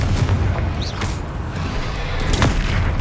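A booming Confringo spell blast from the game Hogwarts Legacy, a heavy low rumbling burst amid continuous combat noise, loud and dense with a few sharper cracks.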